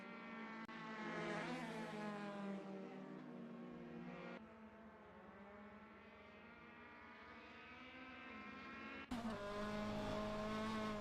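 A race car engine in a racing video game drones at high revs, its pitch climbing, dipping and shifting with abrupt cuts between viewpoints, loud and continuous with no voices.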